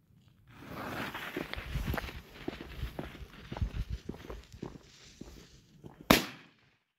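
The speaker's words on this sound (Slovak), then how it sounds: "Veľmi dobrá rana. Powerful Bulldog, 2 gramy." A Powerful Bulldog 2-gram firecracker goes off with one loud, sharp bang near the end, after a stretch of crunching, shuffling footstep-like noises outdoors.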